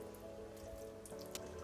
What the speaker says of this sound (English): I'm just adding a little bit of water to the same level with the rice